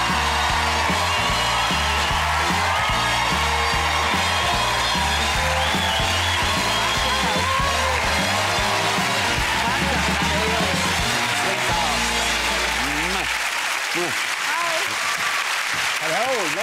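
A television studio audience cheers and applauds loudly and continuously as a guest is welcomed, with music playing underneath that drops out near the end.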